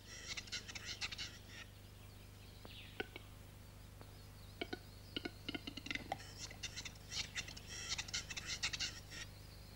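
Capercaillie displaying on a forest lekking ground, with a series of sharp clicks and pops building into bursts of scraping, rattling calls, fairly close, over a low steady background hum.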